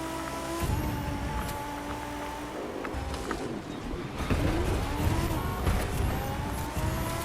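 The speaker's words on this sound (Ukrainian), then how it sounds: "Ми на Lamborghini галардо І ми вже поїхали." A Lamborghini Gallardo races in The Crew 2 at an online start, its engine droning steadily and surging louder partway through, with whining tones and tire noise over a low rumble.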